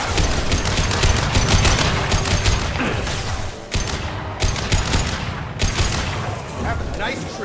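Rapid gunfire from the video game Mass Effect 2 Legendary Edition, loud overlapping bursts of shots crackling almost nonstop, with brief gaps where the volley pauses before resuming.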